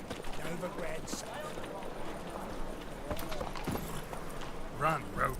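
Roach the horse gallops in a Witcher-style video game, a quick rhythmic clip-clop of hooves close by, with voices speaking over it.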